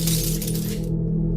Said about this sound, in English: I woke up to hear the sound of glass breaking